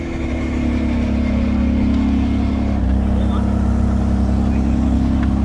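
A Mercedes 190E Evo engine rumbles at a steady idle just after starting, a loud, close, low burble with no breaks.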